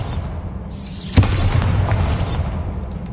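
A Bombarda blasting spell from a wizard video game bursts in a single sharp explosion that booms and rumbles off over a steady game background.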